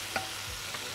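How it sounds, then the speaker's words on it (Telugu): Ginger garlic paste fries in a pan with a steady, fairly quiet hiss, and a couple of soft scrapes from a stirring utensil. "అల్లం వెల్లుల్లి పేస్ట్ కొద్దిగా పచ్చివాసన పోయేంత వరకు కూడా మనము చక్కగా వేయించుకోవాలి"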